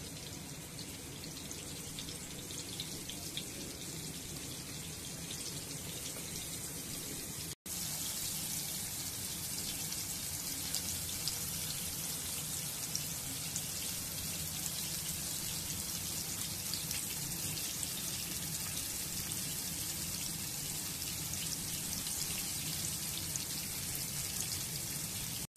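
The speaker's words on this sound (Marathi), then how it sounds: "स्लो गॅसवर फ्राय करायचं" Prawns fry in a pan over low gas with a constant soft crackle and hiss like light rain, holding steady apart from a momentary dropout early on.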